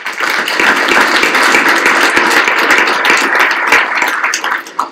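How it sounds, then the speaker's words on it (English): Steady applause from an audience, dense clapping that holds at an even level throughout without any voices on top. "if you join me in giving them a round of applause."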